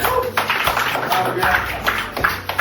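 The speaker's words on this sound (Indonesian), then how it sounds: "mohon tepuk tangan sekali lagi" Small audience clapping at a teachers' positive-culture session, close and uneven with individual claps audible, a voice speaking over the applause.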